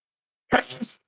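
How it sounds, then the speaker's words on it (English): A single sharp sneeze, close and loud, with a short breathy tail and no talking around it. "Oh, I got to sneeze."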